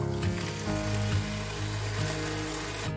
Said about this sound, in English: Going in with a 29-ounce can of Lux Pinto beans